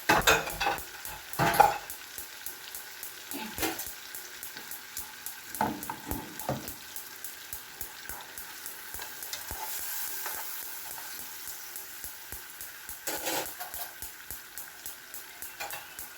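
Sauce poured over a fish fillet frying in butter sets off a continuous close sizzle, with repeated spoon or spatula stirring scrapes and clinks in an uneven rhythm and no talk.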